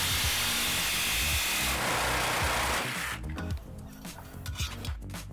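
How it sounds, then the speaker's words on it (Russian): AEG BST18X cordless jigsaw cutting through laminate with a coarse blade, a continuous rasping saw drone that ends partway, followed by scattered clatter and handling noise. "Ламинат и другой листовой материал пилится на ура"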